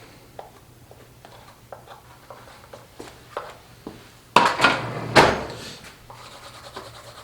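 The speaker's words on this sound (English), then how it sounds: "A little bit of friction from just a plain dry wood dowel" A plain dry wooden dowel rubbed along beeswaxed knife edges, producing several soft scraping strokes that end in two louder, rougher rubs near the end, with no voices.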